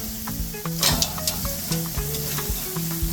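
Small soaked and drained wood chips dropped onto a grill fire for jerk chicken, hissing and crackling in a steady close sizzle with a few sharper pops and steam bursts.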